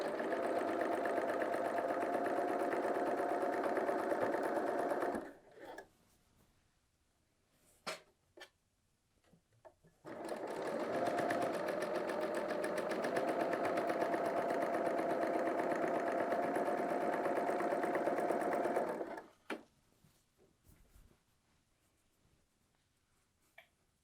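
A Bernina L 890 sewing machine stitches a side seam on a woven top in two long, steady bursts of rapid whirring, with quiet pauses and small clicks between them.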